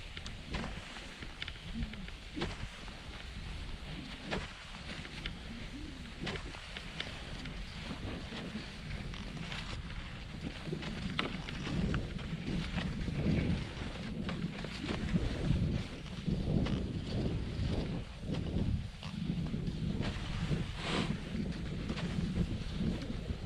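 Steady wind blowing outdoors on a cross-country ski trail, with gusts rumbling against the microphone and strengthening midway through, and no talking.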